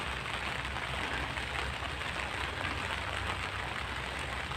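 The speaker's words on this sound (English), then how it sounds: "Can you hear the rain?" Steady rain falls across a cemetery at dusk, a dense, even hiss with a low rumble underneath, constant throughout with no voices.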